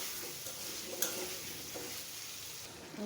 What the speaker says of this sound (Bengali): মিষ্টি কুমড়াটা দিয়ে ভালোভাবে কষিয়ে নেব